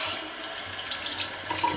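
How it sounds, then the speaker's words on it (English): Tap water running steadily into a sink as shaving foam is rinsed off the face, a close continuous hissing splash with small fluctuations and no talking. "Wash the foam off."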